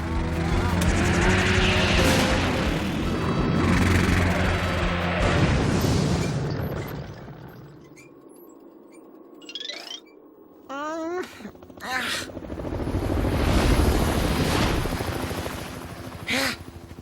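A cartoon villain's globe-shaped getaway vehicle kicks on its jet engines with a loud roaring blast, drops to a lull of whooshing and squeaky effects, then surges back into a heavy rumbling thrust.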